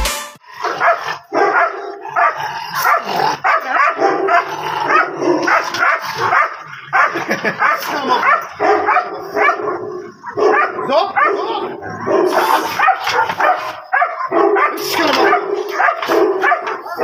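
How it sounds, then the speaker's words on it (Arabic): A fierce fighting dog, let out of its cage without a muzzle to meet another dog, barks aggressively and repeatedly, loud and close, with yips and whimpers mixed in and voices talking throughout. "كلب شرس شراسة مقاتلة."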